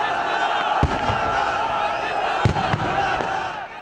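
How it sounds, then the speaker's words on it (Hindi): A crowd of young people near the Eiffel Tower on New Year's chants and shouts together, a loud massed roar punctuated by a few sharp bangs. "फिजा में पाकिस्तान जिंदाबाद के नारे भी गूंजते रहे।"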